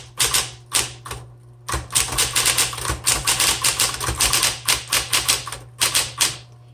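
Keys strike on a 1960s Smith Corona Electra 120 electric typewriter, a rapid, close run of crisp clacks over a steady motor hum, with a brief pause near the start and no voices.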